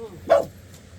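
A single short dog bark sounds near and fairly loud over quiet background, alone with no talking.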